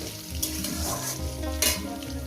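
Potato pieces fry in hot oil in a pan for a poppy-seed vegetable curry, a loud, steady close sizzle with occasional stirring scrapes, with no talking.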